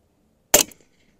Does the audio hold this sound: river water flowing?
no